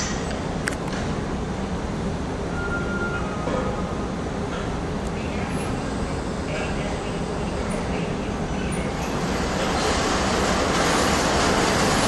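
A train rumbling at platform 1 of a main railway station, steady loud rolling noise with faint squeals and a rising hiss toward the end.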